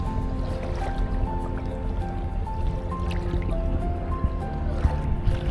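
A houseboat cruising on the Alleppey backwaters in Kerala gives a steady low engine drone with water sloshing and faint drips throughout.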